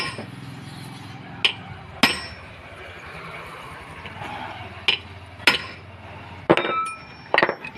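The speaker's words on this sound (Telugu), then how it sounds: "ఇలాంటి జంపర్ పెట్టుకొని ఇలాంటి మనకి హ్యామర్ సహాయంతో కొట్టాలన్నమాట" A hammer striking a jumper tool held in a vise while removing the clutch drum of a two-stroke agricultural sprayer pump: sharp metallic clinks spaced out irregularly, about eight strikes, close and loud over a quiet room.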